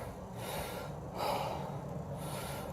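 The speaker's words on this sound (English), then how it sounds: "Breathing heavy is good." Heavy breathing during a workout, with loud, close, rhythmic gasping inhales and exhales rising and falling in waves and no talking.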